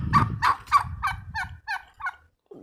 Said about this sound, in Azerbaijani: hündüşkalarımız buradadır.